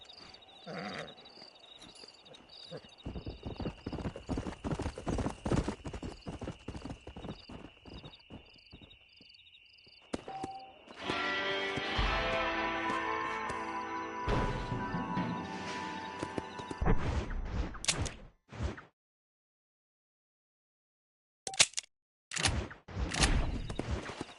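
A stallion in the Red Dead Redemption video game clops along with rhythmic hoofbeats, breaks into a louder stretch of game sound with possible whinnying, then falls silent before a few last short bursts.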